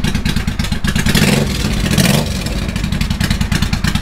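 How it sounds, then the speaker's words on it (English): Honda Shadow VT500 bobber motorcycle engine idling after sitting unused for many months, a loud, steady, close rumbling chug with a fast pulsing beat that swells slightly before settling back to an even idle. "So it's cool to hear this thing running again."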